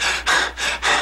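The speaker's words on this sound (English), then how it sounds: "this guy ought to be panting" Heavy panting for a struggling character in an animated film: three loud, rough breaths in quick rhythm, up close with nothing else underneath.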